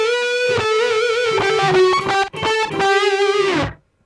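A distorted electric guitar through a BOSS eBand JS-10 with reverb turned off plays a short, sustained phrase that sounds dry, and the final note stops abruptly with no echo or lingering tail.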